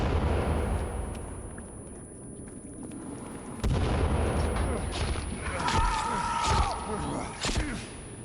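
Explosives detonating in the survival video game Sons of the Forest: low booming blasts with rumbling bursts over a busy game soundscape, and a person speaking excitedly throughout.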